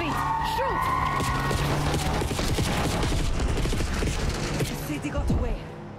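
Dense, rapid gunfire from Call of Duty Black Ops 6 campaign play, loud and nearly continuous for about five seconds with crashing impacts, then easing off, with faint voices mixed in underneath.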